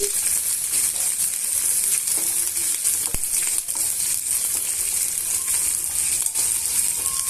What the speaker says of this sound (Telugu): ఇవన్నీ కూడా బాగా వేయించేసుకోవాలి